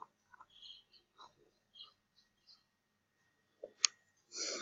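A single sharp computer mouse click lands near the end, preceded by scattered faint clicks and soft tapping, in a quiet room with no talking.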